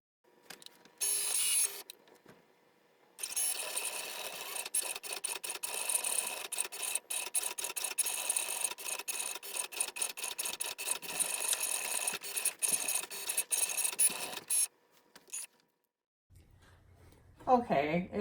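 A cutting machine slices glitter iron-on vinyl in a long rapid rasping burst of fine scratchy ticks, with shorter bursts before and after and quiet gaps between.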